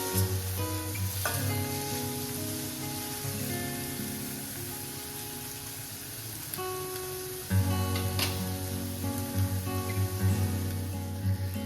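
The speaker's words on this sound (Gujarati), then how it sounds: "લીલા જે કાચા ટામેટા છે તે એડ કરીશું અને ટામેટાને આપણે સોફ્ટ થાય ત્યાં સુધી જ આ રીતે કૂક થવા દઈશું" Raw green tomatoes cook in a hot pan with a loud, continuous sizzle and crackle, brief stirring scrapes breaking in, and a fresh surge of frying about two-thirds through.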